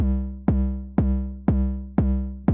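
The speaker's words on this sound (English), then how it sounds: "those punchy drums will sound like this" Punchy synthesizer drum hits with a quick release, six evenly spaced booming thumps about half a second apart, each one decaying fast. They are loud and close, with no voices.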